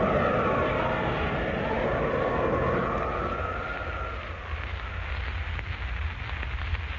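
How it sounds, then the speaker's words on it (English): An airplane sound effect from an old Superman radio drama: a steady, loud engine roar with a rising whine that holds, then thins into a rougher, fainter drone, with no voices over it. "Up in the sky, look! It's a bird! It's a plane! It's Superman!"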